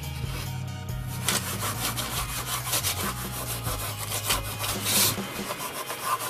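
Sandpaper scuffs a surface by hand ahead of painting, a close, steady rasping rub in short back-and-forth strokes over a low background hum.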